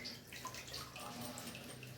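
Water wrung out of a freshly washed fish being prepared for fish tea soup: soft, continuous splashing and trickling into a basin, close but quiet, with no talk.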